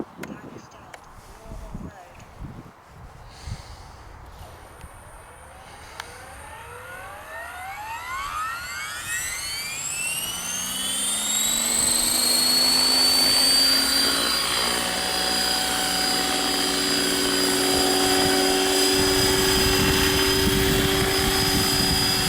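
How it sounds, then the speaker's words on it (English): Align T-Rex 500e electric RC helicopter spooling up and hovering close by, its whine rising from about eight seconds into a loud, steady high-pitched tone with rotor buzz, after quieter outdoor background. "I love to get shots of the heli hovering close"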